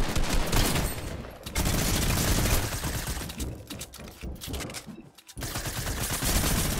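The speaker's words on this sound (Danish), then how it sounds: "Et shotgun skud tilbage." Dense, loud bursts of shotgun fire in Fortnite, blasts overlapping almost continuously with a brief lull near the end.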